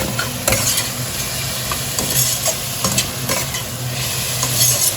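Chopped tomatoes tumble into lightly fried onions and get stirred, giving a continuous close sizzle broken by scraping spatula strokes and a few sharper clicks, with no talking.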